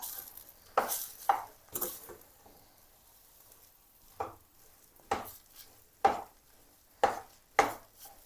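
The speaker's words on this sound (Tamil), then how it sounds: "இதையும் சேர்த்து கலந்து விட்டு கொள்ளுவோம்" A spoon stirs vegetable roll filling with pepper powder in a pan, giving scattered scraping knocks and clinks at uneven intervals, close and fairly quiet, with faint sizzling between strokes.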